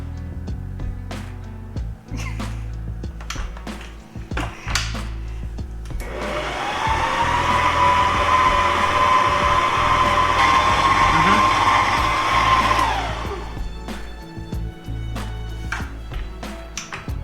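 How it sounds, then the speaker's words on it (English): A KitchenAid stand mixer beats apple bread batter, a steady whirring motor hum that starts partway in and runs for several seconds before stopping, with clattering kitchen sounds around it. "So this is our first stand mixer"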